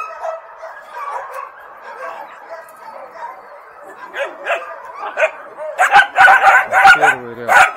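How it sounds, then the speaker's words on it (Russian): A dog at an animal shelter barks and yips several times in quick bursts, growing louder toward the end, amid faint background voices. "Собака."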